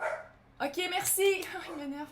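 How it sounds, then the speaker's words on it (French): A pet dog barks a few times indoors, mixed in with someone speaking French close by, the barks partly buried under her voice. "c'est mon chien qui pense qu'il y a quelqu'un qui frappe à la porte quand il y a des cartes qui font ça"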